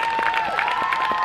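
A crowd out in the streets claps and cheers during lockdown. Dense applause rolls on steadily with rhythmic clapping and a sustained tone above it, close and loud.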